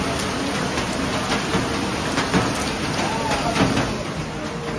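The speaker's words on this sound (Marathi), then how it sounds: "माझ्या घराच्या बाहेरचं पाणी भरत आहे, थोडंसंच आहे पण माहिती नाही पाऊस केवढा वेळ असेल." Heavy monsoon rain pours steadily during flooding in Nalasopara, a dense unbroken hiss of water falling on surfaces, close and loud, with occasional faint background sounds.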